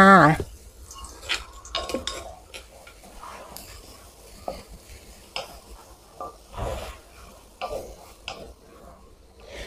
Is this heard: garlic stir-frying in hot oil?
yes